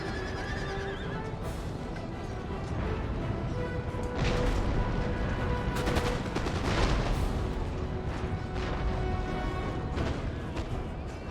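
Musket volleys and cannon fire in the video game Empire: Total War during a siege battle, rolling repeated blasts and crackling gunfire mixed with horse neighs and battlefield din, continuous and loud.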